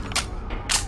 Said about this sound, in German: Ich lade nach!